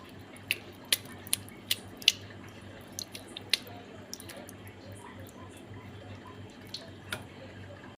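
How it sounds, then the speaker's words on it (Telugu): Washed, soaked idli rava squeezed by hand to drain the water, giving soft wet squishes and a few sharp drips and splats spread across a quiet kitchen background. "దీన్ని మనం నీళ్ళు లేకుండా చేసుకుని పిండుకుని బాగా గిన్నెలోకి వేసుకుందామండి"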